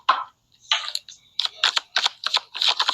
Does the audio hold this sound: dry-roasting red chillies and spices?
no